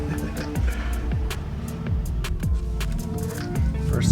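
A tuned 2018 Ford Raptor truck drives off, its engine droning steadily with repeated rising and falling pitch sweeps as it shifts through gears, loud and continuous throughout.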